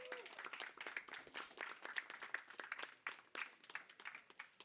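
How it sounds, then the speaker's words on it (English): Applause from the crowd at a collegiate Overwatch 2 esports event, dense rapid clapping that swells and holds steady throughout, with a voice talking faintly beneath it. "a round of applause for everybody here in attendance"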